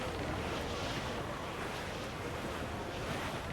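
Squall wind roars steadily over crashing ocean waves around a sailing ship at sea in Assassin's Creed IV Black Flag, a constant broad rush with no pauses or voices.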